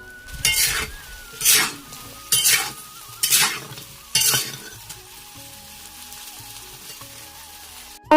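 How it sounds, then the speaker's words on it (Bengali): Potatoes frying in a pan, a steady sizzle of oil broken by about five loud bursts of stirring and scraping spaced roughly a second apart, then a quieter sizzle with a sharp clink at the very end. "আগে আলুগুলো একটু ভেজে নেবো তারপরে ডাঁটাগুলো দিয়ে দেবো"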